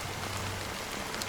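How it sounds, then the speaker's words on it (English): Steady rain falling in the video game Honkai: Star Rail, a dense even patter of drops on surfaces, moderately close and continuous throughout, with no voices. "Why did this rain choose me?"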